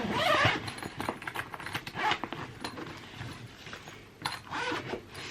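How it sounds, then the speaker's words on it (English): Buckles unclipping and a zipper drawn around the main compartment of a hand-luggage travel backpack, a run of close rustling, rasping clicks and zip strokes with no talking. "So you unclip it here, unzip it"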